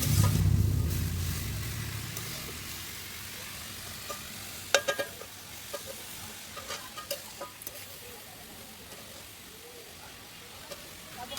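Slices of ash gourd fry in a pan with turmeric, a steady low sizzle broken by a few sharp scraping clicks from a spatula as they are stirred; louder hiss at first, then quieter frying.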